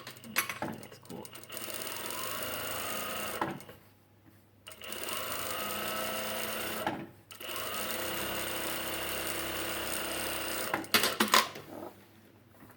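A sewing machine running along the edge of a plain poncho in three long stretches of fast, steady stitching, broken by short stops as the fabric is turned, with some handling clatter.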